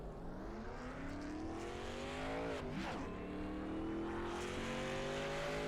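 A race car in qualifying at the Winstel 400 pulls out of pit road onto the racetrack. Its engine whines and revs up, climbing in pitch, and it passes by with a Doppler sweep, with other engines droning steadily in the background.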